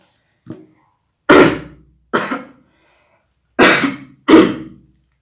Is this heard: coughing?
yes